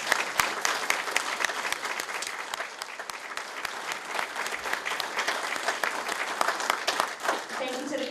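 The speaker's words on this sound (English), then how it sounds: "I think candidates deserve a round of applause for tonight." Audience applause at a chamber of commerce candidate forum, honoring the candidates after the evening's discussion: steady, dense clapping that fills the room for the full stretch, with sharp individual claps standing out near the listener.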